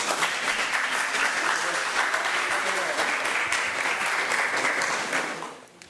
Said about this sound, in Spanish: Por favor, fuertes aplausos para ellos.